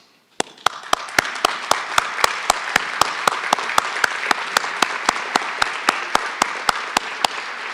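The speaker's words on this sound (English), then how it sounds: "so we can give you a round of applause" An audience at a county government address applauds steadily, with one nearby pair of hands clapping in a sharp, even rhythm above the crowd's sustained clapping.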